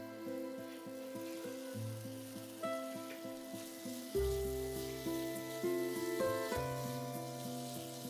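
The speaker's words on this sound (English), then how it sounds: "Sauté everything together for another 5 to 6 minutes to build the flavor." Fried eggplant and minced garlic sauté together in a pan for Sicilian caponata, giving a soft, steady sizzle with occasional stirring under background music.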